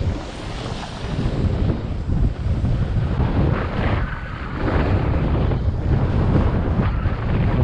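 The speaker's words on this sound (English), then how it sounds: "So let's enjoy the ride and see what it's like skiing here." Skiing down a winter mountain slope at Krasnaya Polyana, Sochi, with a steady, loud rush of wind buffeting the microphone from start to finish and no voices.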